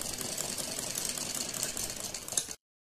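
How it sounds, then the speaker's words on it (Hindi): A sewing machine stitches a folded-under hem on a sleeveless baby dress, running as a quiet, even, rapid whir for about two and a half seconds before stopping abruptly. "और इस पर सिलाई लगा देंगे ऐसे।"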